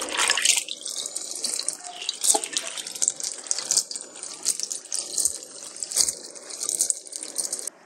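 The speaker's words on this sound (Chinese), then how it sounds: "清洗干净外皮" Chili peppers are washed under a running kitchen tap, with close, continuous splashing water and shifting gurgles as the peppers are rubbed in the stream.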